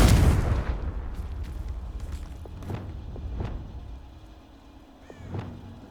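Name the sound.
Confringo fire curse blast, from video game Hogwarts Legacy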